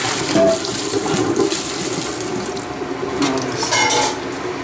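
Cold tap water running steadily into a sink over boiled jellyfish, a continuous loud hiss and splash with no pauses and no talking.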